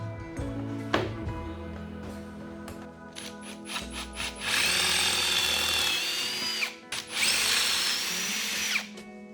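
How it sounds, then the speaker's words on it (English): A power drill bores mounting holes in a bracket mount for a DIY bartop arcade cabinet, whining loudly in two long sustained runs after a few short triggers and knocks, close up. "I drilled out the mounting holes and used a couple of bolts to secure the bracket to the mount"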